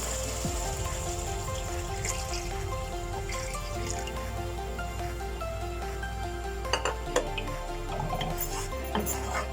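Yakhni stock pours into a pot of fried rice, a soft steady liquid trickle and sizzle with occasional light clinks of pot and utensil near the end.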